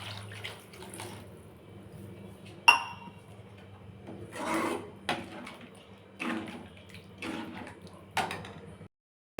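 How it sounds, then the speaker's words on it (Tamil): Quiet, intermittent splashing and trickling of water poured into mushroom gravy in a few short pours, with soft clinks and a sharp knock partway through. "அதில் கொஞ்சம் தண்ணி, 3/4 டம்ளர் தண்ணி ஆட் பண்ணிக்கலாங்க."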